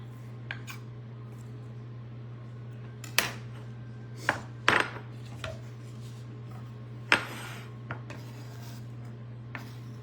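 A kitchen knife is sharpened with a store-bought sharpening kit, giving a few scattered scraping and rasping strokes against a steady low hum, faint and irregular with pauses between.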